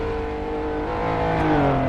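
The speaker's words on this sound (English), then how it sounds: "Super loud cars going by." Loud engines of historic race cars in a video game roar and rev as they pass close by on the Longford road circuit, their pitch shifting as they go.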